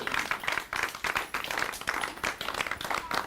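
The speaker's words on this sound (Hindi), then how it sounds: "जोरदार तालियां इनके लिए बजा दीजिए।" People at a farmers' quiz forum on women's role in agriculture clap for a contest winner. Brisk, fairly close hand claps come in short uneven bursts, steady at a moderate level.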